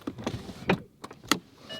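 An electric motor whirs and whines as a supercar's powered doors lift, with a few mechanical clunks and clicks along the way.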